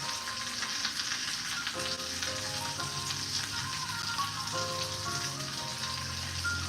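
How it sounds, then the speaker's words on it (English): Salmon fries in a pan with a steady, bright sizzle and crackle, constant and fairly close, joined by a low hum that shifts partway through. "since I'm frying it, it takes a little longer"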